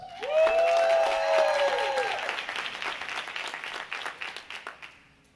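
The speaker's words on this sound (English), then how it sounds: "give me a round of applause" Audience applause at a property investment business forum begins under a loud whistle-like tonal sweep, then continues as dense clapping that thins into scattered claps before fading out.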